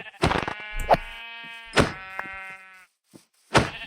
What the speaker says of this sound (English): Ooh, big sheep.